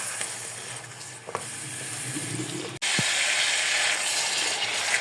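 Potatoes frying in masala for a mongre aloo sabji, a steady broadband sizzle with a sharp clatter midway and louder hissing after it, no talk.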